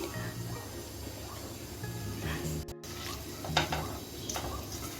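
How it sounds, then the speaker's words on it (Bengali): Whole spices tempering in hot oil in a pan for a Mughlai egg curry, a soft crackling sizzle with light stirring scrapes and a few clicks of a utensil against the pan. "ফোড়নটা আমি তিরিশ সেকেন্ডের মতো ভেজে নিচ্ছি"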